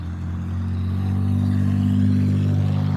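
A loud 1955 white car passes close by, its engine producing a steady deep rumble that builds slightly, with no talking.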